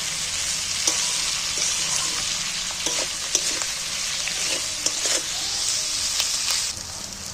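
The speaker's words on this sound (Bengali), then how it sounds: "পেঁয়াজগুলোকে এবার তেলের মধ্যে ভেজে নেব" Chopped onions fry in hot oil in a pan, a dense, steady sizzle with occasional scraping stir clicks, close and continuous throughout with no talking.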